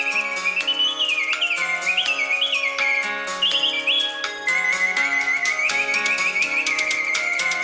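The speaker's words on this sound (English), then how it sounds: "Every mechanical singing bird this company produces is a work of artistic and technical craftsmanship that delivers a performance on command." A mechanical singing bird automaton performs a bright, whistled birdsong of rapid trills, warbles and sliding pure notes, continuous and close with short phrase breaks and no talking.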